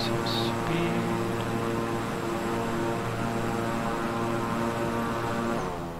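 Simulated King Air 350i twin-engine turboprop spooling up for takeoff in Microsoft Flight Simulator, a steady loud drone of propeller and engine tones holding throughout before easing off at the very end.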